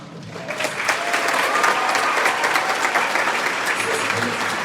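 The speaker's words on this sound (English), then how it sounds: "I want you to give our students a round of applause." Audience applause for student performers at a Hillgrove orchestra concert, a dense, sustained roar of many hands clapping that swells quickly and holds steady at full strength.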